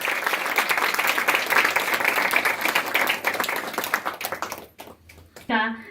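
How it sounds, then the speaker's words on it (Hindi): Audience claps at an annual day celebration in a Delhi hall: dense, lively applause that fades out after about four seconds, followed by a few scattered claps and then a voice. "तो एक बार तालियों से हम उनका आभार प्रकट करें।"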